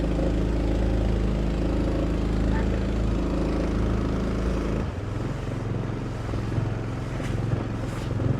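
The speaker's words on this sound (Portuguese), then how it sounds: "Acabou de passar uma lancha aqui." A speedboat passing along a beach shore where diving birds fly, heard as a steady, loud, low engine drone that shifts and roughens midway as the boat goes by.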